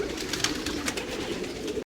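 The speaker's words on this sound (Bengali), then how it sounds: "দেখো এত এত পায়রা সব শখের কারণে আর খাওয়ার জন্যে" Pigeons cooing at a pigeon farm in Saudi Arabia, a close, steady chorus of overlapping soft throaty coos lasting the whole moment before cutting off abruptly.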